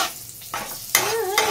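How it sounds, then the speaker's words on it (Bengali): Mustard seeds and green chilli tempering in hot oil, with sizzling that surges loudly in bursts, crackling and spitting close by, with no voices. "আর দেবো সরষে ফোড়ন।"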